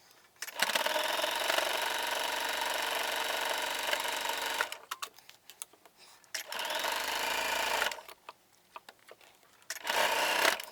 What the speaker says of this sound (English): I'm just gonna pivot my piece, and then I'm gonna keep stitching.